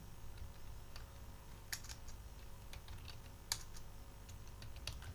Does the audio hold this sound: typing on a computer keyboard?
yes